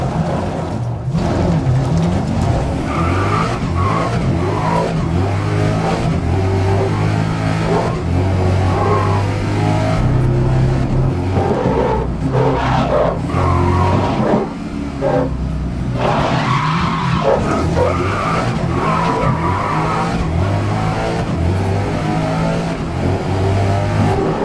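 Race cars in the racing game Grid 2019 roar continuously, engines revving up and down while tires skid and squeal through corners, loud and close with no pause.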